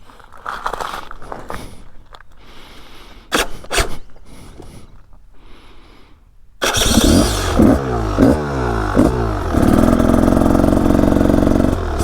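A Spanish Rieju Ranger motorcycle: after a few quiet knocks and clicks, the engine fires up loudly, then revs and accelerates in several rising pulls before settling into a steady, loud, close drone.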